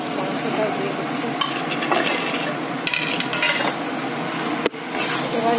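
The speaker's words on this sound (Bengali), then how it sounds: "খুব দেখুন ভালো করে একদম মাংসটা কষিয়ে নিচ্ছি" Spiced meat and potatoes sautéed together in oil in a pan on a home cooking setup, a steady close sizzle with scraping and stirring clinks throughout and one sharp knock near the end.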